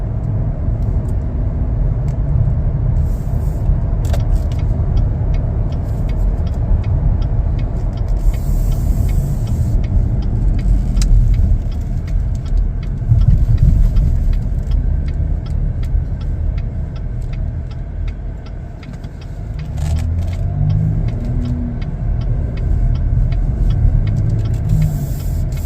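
A 2025 Chevrolet Blazer RS is driving, and the steady low road rumble and engine drone are heard from inside the cabin. The noise holds fairly even throughout, with faint clicks and a brief dip toward the end.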